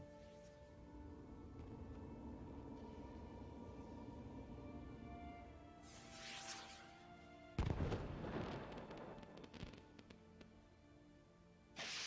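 Firework bursts from bee-shaped particle effects during video game credits: a soft rushing swell, then a sudden loud boom with crackling spray, over a steady musical backdrop, with no voices.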